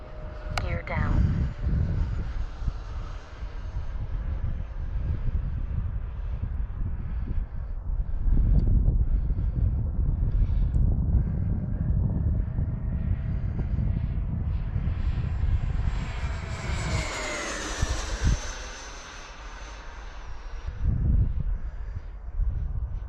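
A QT Models T45 Hawk model jet flying high overhead on its second flight, with a steady, continuous jet whine that rises and sweeps as it passes, wind noise on the microphone and a voice speaking throughout.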